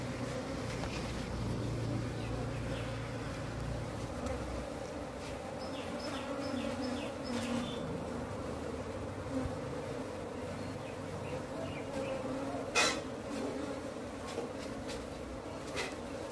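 Indian honey bees (Apis cerana indica) drone in a steady, low buzz at an open wooden hive box during a colony split, continuous and fairly soft, with occasional faint clicks.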